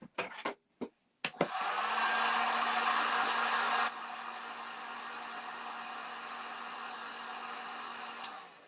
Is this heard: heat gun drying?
yes